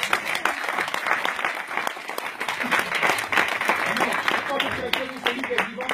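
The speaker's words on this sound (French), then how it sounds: "Est-ce qu'on peut acclamer Jésus?" A congregation applauds and cheers for Jesus at a French-language prayer vigil in Denmark, dense sustained clapping filling the room with voices mixed in throughout.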